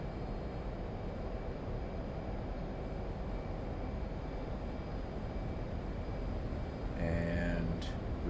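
An F-18 fighter jet in DCS takes off down the runway with a steady, fairly quiet engine roar throughout, plus a brief burst of higher noise near the end.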